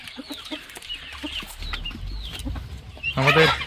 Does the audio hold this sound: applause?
no